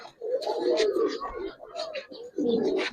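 A young pair of Giribaz pigeons coos in several throaty bursts close to the microphone at a Narayanganj pigeon seller's, with people chatting throughout.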